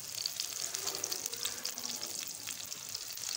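Raw minced-meat kebabs frying in a pan, a continuous close sizzle with crackling pops and spits throughout.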